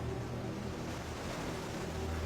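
Ocean waves crash against a shore strewn with a heap of rubbish, making a continuous loud roar of surf mixed with gusting wind noise and no voices.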